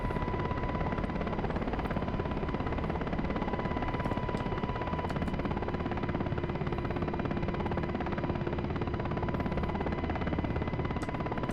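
Simulated UH-60L Black Hawk helicopter in DCS World settling into a combat landing, a steady dense rotor and turbine roar filling the whole clip at an even level with no talk.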